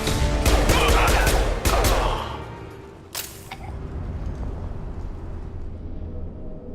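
Gunfire in the video game Mass Effect, a dense burst of rapid loud shots for about two seconds, then a single crack and a low rumbling ambience that fades.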